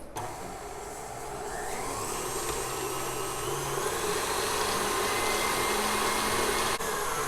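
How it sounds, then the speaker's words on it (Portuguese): An electric mixer beats butter and brown sugar for cookie dough, a steady close whirring drone that builds slightly and holds without pause. "Vamos bater esses dois ingredientes até virar um creminho mais clarinho"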